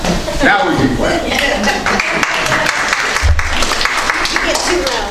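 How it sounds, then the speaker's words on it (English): Applause at a town board meeting after a vote, a small room of people clapping loudly alongside talk and some chuckling, voices carrying over the clapping. "Now we can clap."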